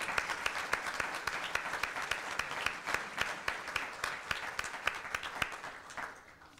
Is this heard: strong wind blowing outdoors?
no